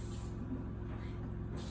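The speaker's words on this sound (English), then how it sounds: "I'm gonna grease it with my coconut oil spray" A coconut oil cooking spray is pressed onto a baking pan for mango curd blondies, giving a short steady airy hiss of about a second and a half, fairly quiet and heard on its own without talk.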